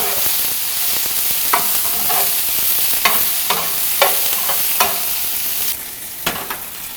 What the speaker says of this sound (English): So our vegetables are starting to char,